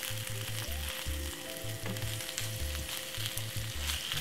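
Red and yellow peppers with red onion and a little ketchup fry steadily in a pan, a constant close sizzle with intermittent low tonal bumps throughout, no talking.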